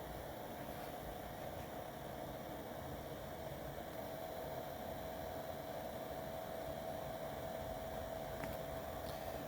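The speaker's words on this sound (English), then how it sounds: "the blower is starting to ramp up now" A Vevor diesel heater's blower fan runs as a steady, even whir with a faint constant tone, holding level throughout without obvious surges and with no voices.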